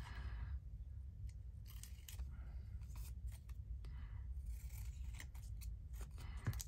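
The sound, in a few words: cutting with fabric scissors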